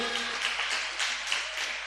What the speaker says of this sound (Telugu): కొట్టండి గట్టిగా, చప్పట్లు